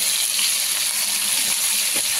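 Steady, loud hiss of water-soaked raw banana pieces hitting hot oil, a continuous broadband sizzle with no talking.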